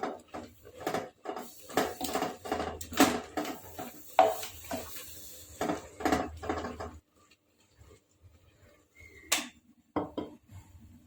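Mustard greens (saag) are mashed in a pot with a wooden masher in a village kitchen, giving a run of rhythmic knocking thuds and scrapes that stop, then a few last clacks.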